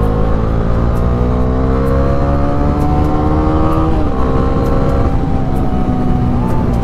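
A Bajaj Dominar 400 BS6 motorcycle is ridden on an open road, its exhaust giving a loud, continuous engine drone. The pitch creeps upward, dips briefly midway, then climbs again.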